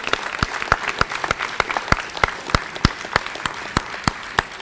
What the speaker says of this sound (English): Let's show him some applause.